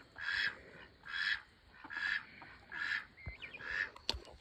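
A male and a female duck quack in a steady series of five nasal calls at even intervals, fairly near, with small rustles and a sharp click toward the end.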